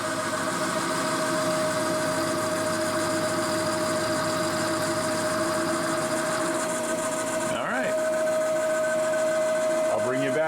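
ACRA Heavy 14 metal lathe cutting steel at 600 RPM, a steady loud machining drone with a constant whine and dense mechanical hum, continuous throughout with a brief shift near the end.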